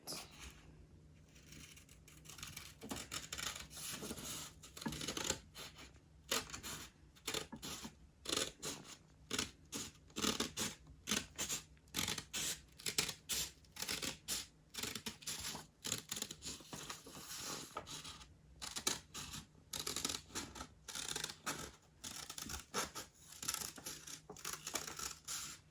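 Scissors snipping through paper while a heart shape is cut out: a long run of quick, close, crisp cuts with short pauses between strokes, quiet and steady, with no talking.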